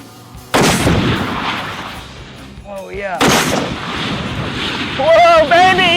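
Booming blasts from an anti-tank rifle, such as the heavy M107, two sharp loud reports with long rumbling tails, followed by whistling tonal sounds and wind buffeting.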